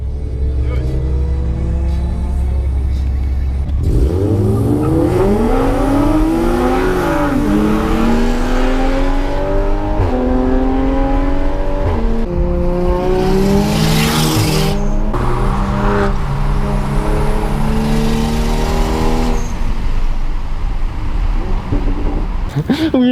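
A Toyota Supra races a Subaru STI, engines revving hard through rising gear pulls with brief tire squeal, loud and close, with people talking over the engine noise.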